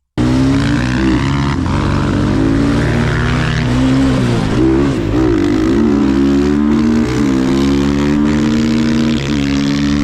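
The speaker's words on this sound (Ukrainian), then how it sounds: "Пригаємо на мотики і даємо газ в пол." Chinese enduro motorcycles, a 300cc and a 250cc, race with throttles wide open, a loud continuous engine roar with pitch rising and wavering through gear changes, close and steady throughout.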